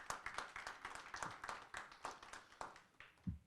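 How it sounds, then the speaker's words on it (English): Scattered audience applause at a community gathering: a modest number of hands clapping steadily, faint and somewhat distant, with no talk over it. "Let's give him a round of applause, please."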